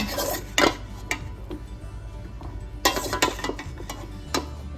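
Potato slices go into a casserole pan for a hamburger potato bake, giving irregular light clatters and clinks of utensil against pan over a steady low hum, close and moderately loud, no speech.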